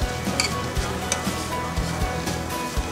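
Prawns fry in a pan with a constant loud sizzle, punctuated by a few low knocks and scrapes of stirring, with no talking.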